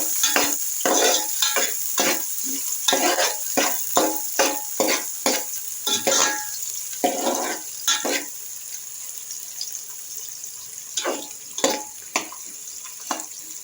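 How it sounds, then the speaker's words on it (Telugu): Onions frying in a pan for biryani, a steady hiss of sizzling oil broken by frequent scraping and stirring strokes, close and fairly loud with no talk. "ఆనియన్స్ బాగా ఫ్రై అవ్వాలి."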